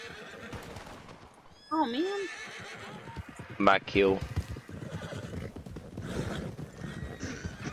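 A horse whinnies loudly twice amid Red Dead Redemption 2 game sounds and hoofbeats, while a person talks excitedly over it.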